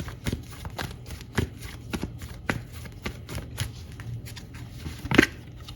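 Tarot cards are pulled from a deck, giving a run of soft, quick slaps and riffles with an irregular rhythm, close and fairly quiet, with a sharper snap near the end and no talking.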